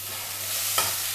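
Small chicken pieces and lightly browned onions fry in a pan with a steady broadband sizzle, a louder burst as more food hits the hot oil near the end.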